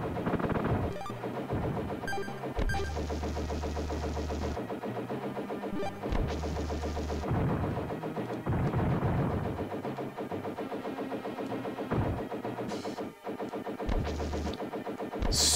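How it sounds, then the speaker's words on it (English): A spread gun fires in a SNES game, rapid repeated electronic shots layered over loud chiptune music and explosions, chaotic and continuous with brief pauses. "See, this is the proper spread gun."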